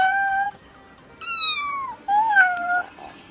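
Cat meowing three times nearby, clear, tonal calls with short gaps between them, the second rising sharply and the third sliding downward, in a quiet room.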